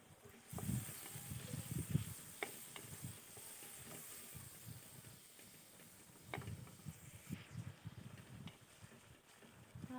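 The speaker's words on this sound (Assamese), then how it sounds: "টমেটোখিনি মই অলপমান ভাজি লৈছোঁ।" Chopped tomato frying in a pan with masala for a vegetarian jackfruit curry, a soft continuous sizzle broken by repeated scraping stirs and clinks, fairly quiet and close.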